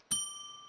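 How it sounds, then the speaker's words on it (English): A bell rings in the Roblox horror game Doors, one clear bright strike that rings on as a sustained metallic tone and slowly fades, alone without talk. "Can you still ring the bell?"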